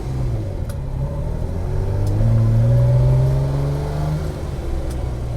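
A Ferrari 330 GT V12 with carburetors, revved on a damp morning after sitting unused, the engine rising to a sustained high rev and dropping back only slowly, loud and close with no talk.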